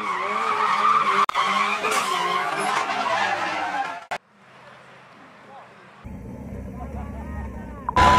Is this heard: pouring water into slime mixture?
no